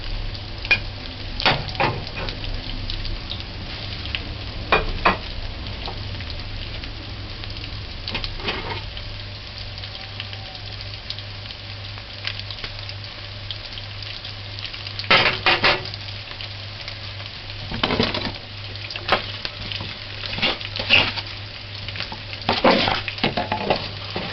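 Steady frying sizzle of fish and chips or onion rings with occasional stirring clatter and scraping, continuous throughout at close range with no voices.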